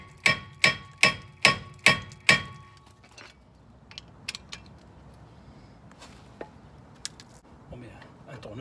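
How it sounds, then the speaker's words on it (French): A hammer taps a seized front brake screw on a Mercedes V-Class, six sharp, evenly spaced metallic strikes close up, followed by quieter scattered clinks of workshop handling. "Il faut qu'on tape avec un marteau et on sort cette vis."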